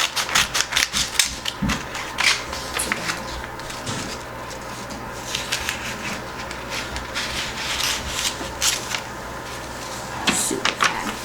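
Paper being cut into a square, a close series of quick snipping and rasping rubs with irregular clicks, fairly quiet and continuous.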